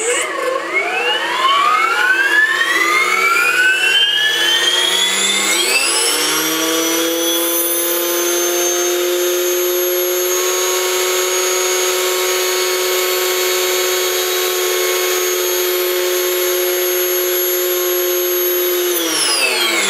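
RC helicopter spooling up, its whine climbing steadily in pitch over several seconds, then holding a loud, close, continuous high tone before dropping off at the end.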